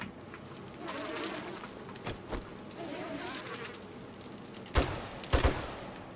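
Bees buzz in the survival game 7 Days to Die, a steady insect hum at moderate volume broken by a few sharp clicks and thumps from the player's movement.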